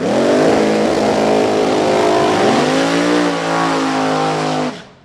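Larry Mays' Mays Powder Coating race car at Beech Bend test and tune, a loud close engine roar with rich harmonics that drops in pitch, steadies, then cuts off abruptly near the end.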